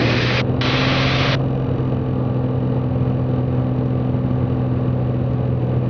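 A propeller plane engine drones steadily on landing approach to Aransas County airport in Rockport. It is a loud, close cabin rumble with a constant tonal hum, and a brief burst of hiss appears near the start.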